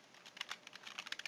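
Quiet, steady clicking of keys on a computer keyboard, a rapid irregular patter of taps with no talking.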